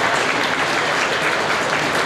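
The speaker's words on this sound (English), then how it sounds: "Again, give this group of young cows another round of applause." At a Holstein senior cow show, the audience gives a brief, dense round of clapping for a class of young cows, loud and even throughout.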